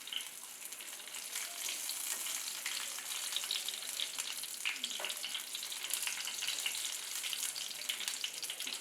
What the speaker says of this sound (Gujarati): તેલ ગરમ થાય એટલે એમાં આપણે 1 ચમચી જીરું નાખીશું